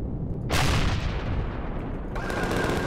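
Rockets fired from a Vulture 2.0 ship in Empyrion Galactic Survival: a sudden loud whooshing blast that tails off, then a second launch with a thin sustained tone over a rumbling engine drone.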